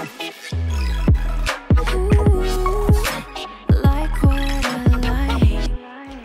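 Second drop of a future bass track: bright layered synth chords with pitch-bending leads and punchy pulses, loud and dense, playing alone without any voice.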